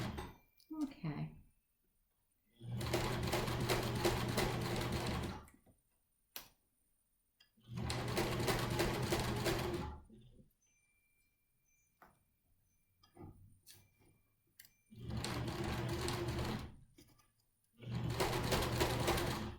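A sewing machine stitches a half-inch seam along a face mask edge in four sustained bursts of rapid, even whirring, separated by quiet pauses where a voice speaks.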